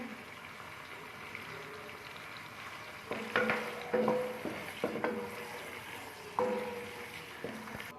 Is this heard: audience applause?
no